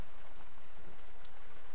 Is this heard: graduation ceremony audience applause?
no